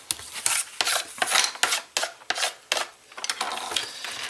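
Folded paper accordion album pages being burnished by hand, a series of close, quick rubbing and scraping strokes in an uneven rhythm, alone without talk.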